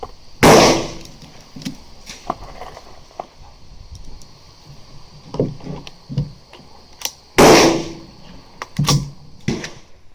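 A Mossberg 702 Plinkster .22 rifle with a 25-round magazine fires at an outdoor range, two sharp loud cracks several seconds apart, with scattered clicks and handling knocks between them.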